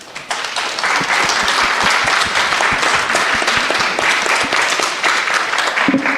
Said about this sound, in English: let's just give one round of applause to all our panel speakers.